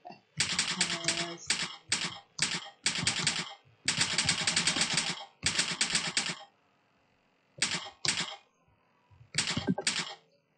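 Bursts of rapid keyboard typing come in short runs separated by brief pauses, close and crisp, with no voices.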